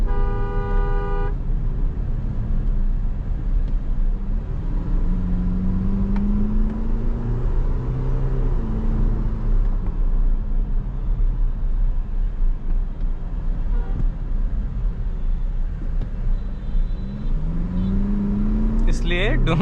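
MG Majestor SUV accelerating hard on the road, engine pitch climbing through gear changes with steady cabin road noise, and a short horn toot at the start and end as someone talks over it.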